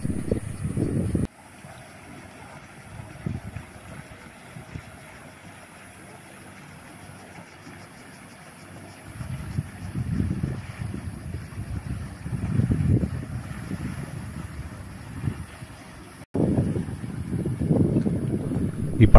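A fast motor yacht racing toward the canal during a boat parade, a rising and falling rush of engine and water noise passing by, mixed with strong wind buffeting the microphone.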